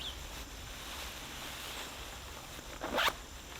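A OneTigris blanket poncho is zipped up, one short quick zipper rasp near the end over steady outdoor background noise, close to the microphone and without talking.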